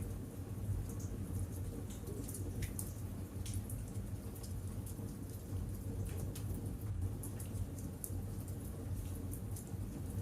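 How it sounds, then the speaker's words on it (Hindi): Steady rain falls outside, a dense continuous patter with scattered sharper drops, even and moderately loud throughout, with no voices. "और बाहर हो रही हल्की बारिश की आवाज सुनिए।"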